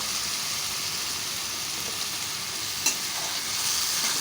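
A paste of ginger, garlic, chilli and tomato fries and gets stirred in a pan for a spicy village-style boal fish curry, giving a steady hiss with scraping stirs and a brief clatter midway.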